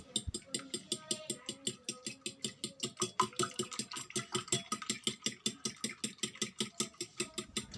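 Eggs are beaten with a fork in a bowl, a fast, steady stream of light rhythmic clinks and taps that continues evenly throughout at close range.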